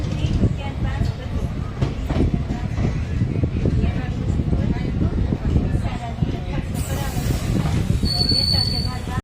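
A passenger train pulling out of Vansjaliya station rumbles loud and close with rhythmic wheel clatter, and a thin squeal rises near the end.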